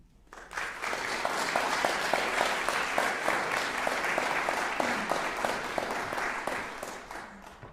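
Audience applause at a lunchtime lecture recital, a sustained, dense round of clapping that swells quickly, holds steady for several seconds, then fades out.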